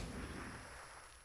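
Flashbang grenade going off in XCOM: Chimera Squad, a short heavy boom whose rumble fades quickly over about a second, faint overall, with no talk.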